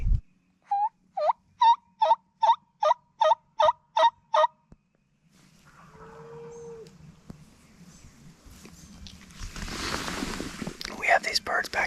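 Wild turkeys gobbling at dawn on an opening-day hunt, a string of about nine loud, rhythmic gobbles in quick succession, followed by quieter rustling, distant bird calls and growing background noise.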